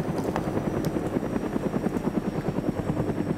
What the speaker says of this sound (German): Sie werden gerade beschossen vom Helikopter.